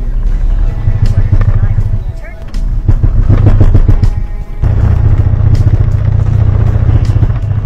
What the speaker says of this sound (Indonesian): mobil menjadi tersendat dan bergetar seperti ini guys